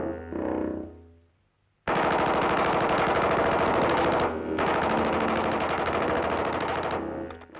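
Sustained machine-gun fire rakes at Godzilla in Gojira (1954): after a faint low rumble, loud continuous rapid bursts start abruptly and run almost unbroken, with one short gap midway.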